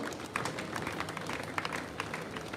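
Audience at a Christian church wake-keep service clapping steadily and continuously, a dense, moderately loud patter of many hands with a few sharper claps standing out.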